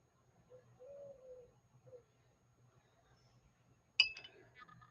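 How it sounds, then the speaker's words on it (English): A mourning dove coos softly in the distance outdoors, a faint drawn-out call heard across an otherwise quiet room, then a sharp close clink near the end. "There's a mourning dove out there cooing."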